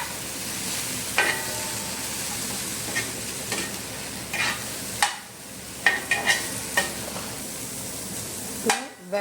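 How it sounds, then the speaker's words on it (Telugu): Egg and vegetables frying in a pan while being stirred, with continuous close sizzling and a series of spatula clinks and scrapes against the pan, no speech heard. "వేగనివ్వాలి కొంచెం."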